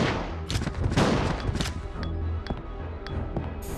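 Shotgun blasts in the survival horror game Resident Evil Code: Veronica, several loud booming shots spaced irregularly with sharp attacks and ringing tails, alone without voices.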